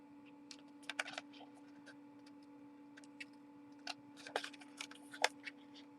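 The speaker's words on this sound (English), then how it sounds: "now with my scissors I'm going to cut that out." Scissors snip through card stock while cutting out a traced shape for a handmade gate-fold shaker card, giving scattered sharp, quiet clicks and short snips over a steady low hum.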